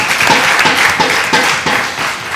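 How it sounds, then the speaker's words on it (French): Studio audience applause for a guest musician, a steady wash of many hands clapping at moderate loudness, carrying alone for a couple of seconds. "j'aimerais vraiment qu'on vous applaudisse pour ça déjà"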